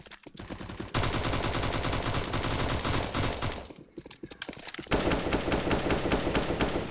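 Rapid automatic gunfire in the video game Mini Battlegrounds, loud sustained bursts with a brief lull before a denser volley near the end.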